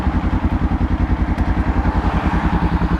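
A motorcycle engine runs close up while riding, a steady rhythmic pulsing thrum with regular throbbing beats and no talking.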